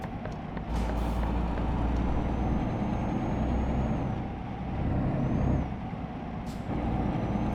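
In Euro Truck Simulator 2, a clean, new-looking truck driving in Denmark gives a steady low engine rumble that swells and eases, with a brief hiss of air brakes, close and continuous.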